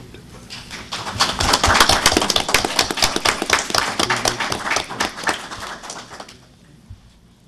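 A county board meeting audience applauds an award recipient with a burst of many hands clapping, rising quickly, holding steady for several seconds, then tapering off into quiet.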